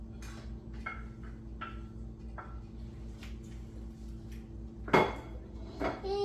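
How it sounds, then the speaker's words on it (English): Beef with its juices being returned to a simmering pan for beef stroganoff, with light clinks of utensils on cookware and a louder clatter of meat and metal near the end, no talking. "Now we're gonna put the meat back in."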